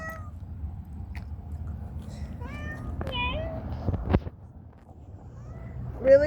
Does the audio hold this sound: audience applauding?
no